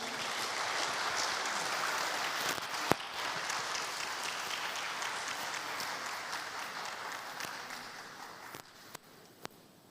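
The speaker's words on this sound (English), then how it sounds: "So please welcome him with a big applause" A conference audience applauds with dense, sustained clapping that fills the room at an even level, then thins and fades out near the end as the last few claps trail off.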